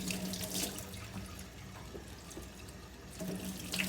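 A kitchen tap runs steadily into the sink while onions and peppers are rinsed, a close, moderate splashing wash that grows louder near the end.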